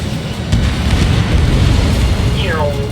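Loud, sustained low rumbling blast from an enemy bomber shot down in the jet combat game Ace Combat 7, filling the whole moment, with a brief descending whistle-like tone near the end.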